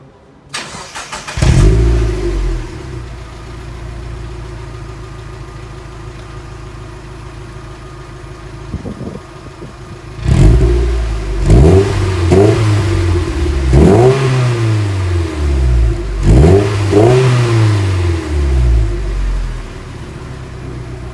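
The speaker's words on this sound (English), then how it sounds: "let's fire this up and see what she sounds like" A Mazda Miata NB MX5 fitted with an axle-back exhaust cranks and starts, settles into a low idle, then revs sharply four times in quick bursts, each rise and fall clear and close.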